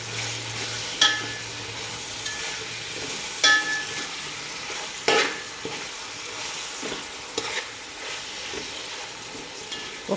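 A spoon stirring chicken dum biryani masala with mint leaves in a hot pot, a continuous sizzle broken by several scraping strokes spaced a second or two apart, close and alone without talk.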